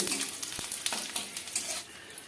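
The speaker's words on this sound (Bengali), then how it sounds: "এবার ফোড়নটাকে আমি দু তিন সেকেন্ড মতো ভেজে নেব" Dried red chillies, a slit ripe chilli, bay leaves and panch phoron spices sizzle in hot oil in a pan, giving a close, steady hiss broken by sharp crackles and pops, with no talking.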